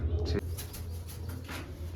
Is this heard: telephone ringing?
no